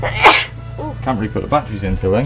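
A single sharp sneeze bursts out up close, followed by a person talking.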